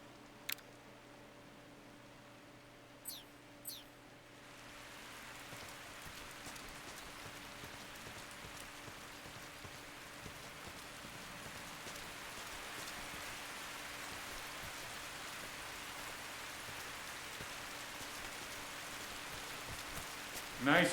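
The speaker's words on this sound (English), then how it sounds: "Nice rain sound," Steady rain falls in the video game Metal Gear Solid 3 Delta: Snake Eater, a soft, even hiss of drops on surfaces that swells after a few seconds and carries on faintly and continuously, with a couple of brief clicks early on.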